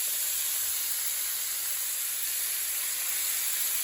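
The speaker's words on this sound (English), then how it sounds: "I'm kind of like frying these rib tips first. I'm searing them." Rib tips sear in a hot pan with a steady, hissing sizzle that holds at an even level throughout, with no voices.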